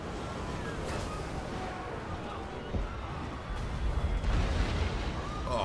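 Dense rumbling battle noise from Total War: Warhammer, with low booms of Hell Cannon fire layered over continuous roaring, loud and busy throughout, heavier near the end.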